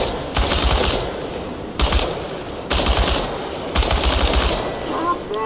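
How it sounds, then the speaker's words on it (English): Automatic weapon fire in the Chernobylite video game, four loud sustained bursts of rapid shots aimed at tin cans, with short quiet gaps between bursts. "The biggest challenge is compensating for recoil in automatic firing mode."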